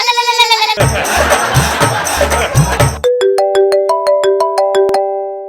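A loud electronic phone ringtone plays, first a melodic jingle over a noisy crowd-like section, then a clear beeping tone sequence, close and prominent.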